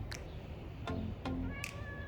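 A cat meows several times outdoors in a late spring garden, short close calls spaced apart with quiet between them.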